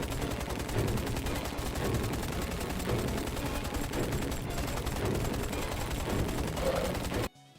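Gunfire in a film shooting scene, dense continuous crackling bursts of rapid shots at moderate level for about seven seconds before cutting off abruptly.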